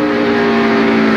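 Loud NASCAR stock cars roar past at full speed on a racetrack, a sustained close engine drone with steady tonal whine throughout.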